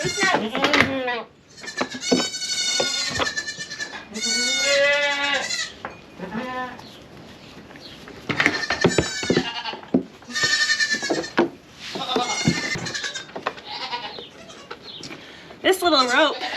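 Dairy goats bleat repeatedly and loudly at close range during spring and summer milking on a milk stand with a milking machine, calls coming in harmonic bursts with short gaps between them.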